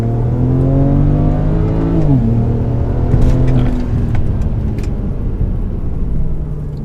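Tuned BMW 335i with turbocharged N54 engine launching hard from a standstill, a loud rising engine drone that dips at a gear change and continues pulling, heard from inside the car with a brief wheel-spin moment.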